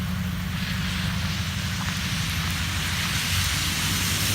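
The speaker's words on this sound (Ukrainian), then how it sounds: "а в нас пішов град." Hail falls in early spring as a steady, dense hiss of pellets striking the ground, continuous and even throughout with a low rumble beneath, and no voices.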